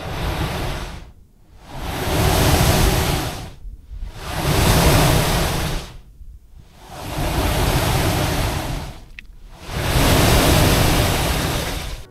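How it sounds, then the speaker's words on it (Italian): Seawater surging through the Bufadero blowhole on Tenerife's rocky coast, forced up from a sea cave below, in four loud, roaring whooshes separated by brief quiet lulls. "l'acqua entra da qui sotto, dove c'è una caverna, e da qui esce lo sfiato"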